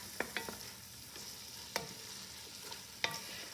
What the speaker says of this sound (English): I'm going to let the garlic cook probably for about 3 or 4 minutes